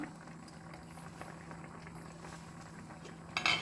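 Soaked sago pearls simmering in a pot for a brown-sugar kanji, a soft steady bubbling close by over a faint low hum, ending in a brief louder clink and rattle of a utensil against the pot; no speech.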